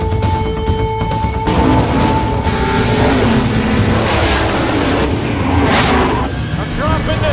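A race car in the NASCAR Days of Thunder video game roars loudly and continuously as it accelerates at speed, with a sustained, close engine drone and possible tire noise, and a voice partly over it.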